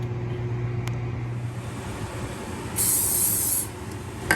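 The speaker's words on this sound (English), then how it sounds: "Give it a little spray." A short hissing burst of cooking oil spray lasting under a second, heard over a steady low hum and faint background rumble.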